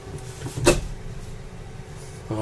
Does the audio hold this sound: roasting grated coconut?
no